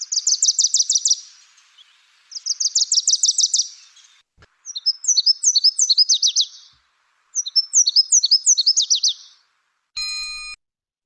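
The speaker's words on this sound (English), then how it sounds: "That's a Wilson's warbler and a Nashville warbler." Wilson's warbler and Nashville warbler songs near Lake Tahoe: four bright, rapid chattering trills in separate bursts, fairly loud and close, ending with a short steady electronic-sounding tone.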